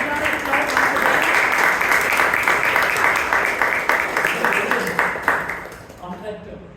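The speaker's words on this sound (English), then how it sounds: "Can we have a big round of applause once again?" A round of applause at a Toastmasters club meeting in Bangalore, steady group clapping that thins into scattered claps and fades near the end, with faint voices underneath.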